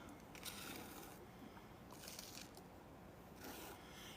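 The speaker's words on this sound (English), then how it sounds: "I'm gonna scrape up my extras, my excess." Excess grout is scraped off a cardinal mosaic in three long, rasping strokes, soft and close, with a faint steady hiss between them.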